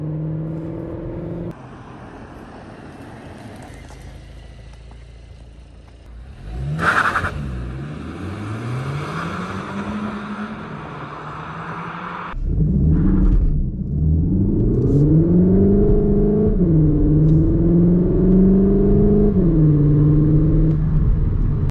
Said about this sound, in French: On a l'impression d'avoir un V8, mais c'est un 4 cylindres